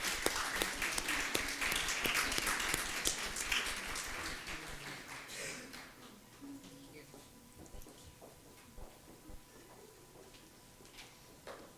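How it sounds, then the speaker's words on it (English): Applause from a student leadership recognition luncheon audience, dense clapping over the first half and thinning out after about six seconds into quieter room noise. "let's give them one more round of applause and congratulations."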